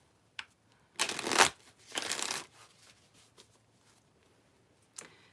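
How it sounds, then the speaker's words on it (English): A deck of cards being shuffled, two distinct riffling bursts close up in a quiet room, followed by a few soft taps and a faint click. "I'm going to use my past life deck of cards"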